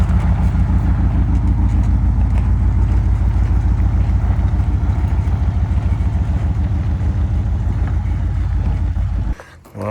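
A 1988 Ford Bronco engine runs steadily up close after sitting for about 24 years, a loud, rhythmic low chug with a rough pulsing idle, cutting out abruptly near the end.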